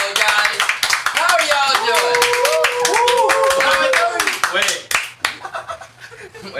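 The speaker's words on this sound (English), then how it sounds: "give a big fish tank round of applause for Mr. Beast" A room full of people claps for a guest's entrance, a loud burst of clapping mixed with laughter and overlapping voices that thins out near the end.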